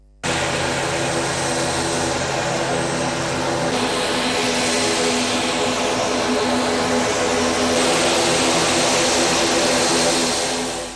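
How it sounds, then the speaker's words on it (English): An Air India Alliance plane lands at Jaffna International Airport, a loud, steady engine roar that holds for the whole stretch and fades only at the very end. "The aircraft that belongs to Air India Alliance landed at the airport"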